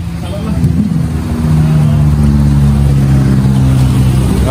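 A car engine idles and then climbs in revs at a crowded car club gathering in Jogja, a loud, close rumble that rises and holds with steady harmonic drone, while people talk nearby.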